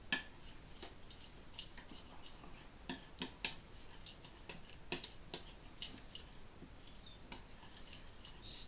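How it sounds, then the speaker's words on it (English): A spoon stirs an apple, radish and pecan salad with miso mayonnaise dressing in a bowl, producing faint, irregular clicks and light taps against the dish in a quiet room. "Stirring it."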